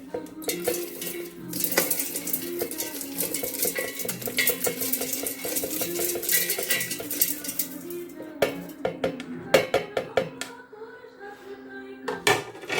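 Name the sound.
cooled spices poured into a mixer grinder jar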